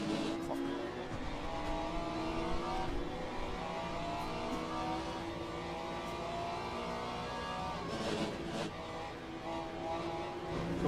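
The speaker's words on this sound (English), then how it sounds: "Look at the McLaren, Marcus. Just watch the McLaren." Race car engines in the Le Mans Ultimate racing video game, including a McLaren, make a continuous layered drone of revving and shifting engine tones with a brief tire squeal.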